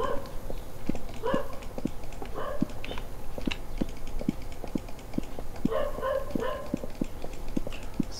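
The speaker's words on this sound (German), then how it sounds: "man kann nicht mal das Fenster aufmachen, weil der Kackköter da mal rumbellt" A dog barks repeatedly outdoors at a distance, heard through a window behind a Minetest game session, with a regular rhythm of short, sharp barks and some yips over faint background noise.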